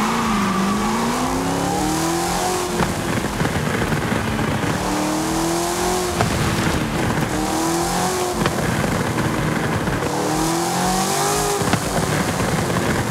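The Flip Car in the Forza Horizon 5 racing game revs loudly and repeatedly, its engine note climbing and falling in a series of roughly two-second sweeps with no one talking over it.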